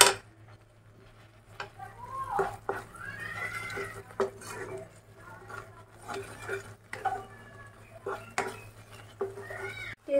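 A spice paste of turmeric, Kashmiri dried chilli powder and coriander powder is fried and stirred in a pan for Kashmiri aloo dum, giving intermittent scrapes and clinks of a spatula over a low steady hum, close and without talk.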